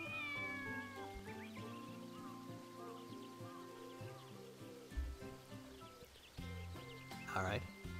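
A cat meows in the video game Sakuna: Of Rice and Ruin, a brief rising call near the end, over continuous game music and character voices.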